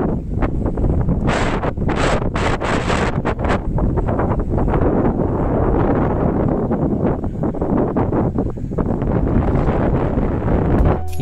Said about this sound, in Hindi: ये जो तेज हवाएं आपने अभी सुनी ये साइक्लोन यास की वजह से थी